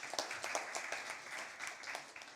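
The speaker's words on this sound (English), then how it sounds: "A round of applause for him." A round of clapping from the audience at an impromptu speaking competition, welcoming a judge. Dense, fairly quiet applause with rhythmic bursts, steady for the whole stretch.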